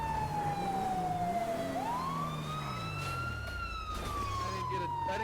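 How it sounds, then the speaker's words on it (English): Police sirens in a video game wail continuously, pitch sweeping up and down, loud and close, layered with engine rumble; no talk. "I didn't get to hear you over the loud sirens."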